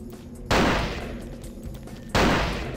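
Two loud, close bursts of weapon gunfire from Vampire Bloodlines, each hitting sharply and then trailing off in a long decaying rumble, spaced over a second and a half apart over a constant background hum.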